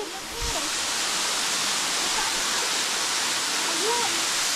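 Luluwasan Falls roars in a constant wash of rushing water, with faint voices occasionally surfacing beneath the steady torrent.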